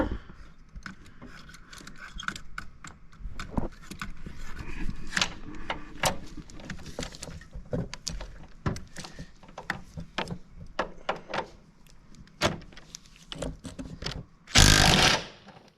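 Bolts being removed from a shock mount on a 2006 KJ CRD during a shocks and struts refresh: scattered ratchet clicks and metallic taps come at an uneven pace, with a louder rustling burst near the end.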